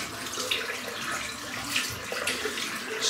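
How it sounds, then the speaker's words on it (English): Hot water runs from a tap into a sink before a shave, a steady close hiss and splash that keeps going without a break, with no talk. "Let me fill the sink."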